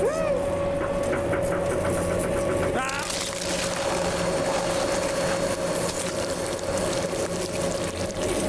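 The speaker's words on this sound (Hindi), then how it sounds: "मीट ग्राइंडर खुद ऑन नहीं होगा।" In a cartoon, a large meat grinder starts up: a rising whine is followed by a sudden burst of dense, loud mechanical churning and rattling that runs continuously to the end.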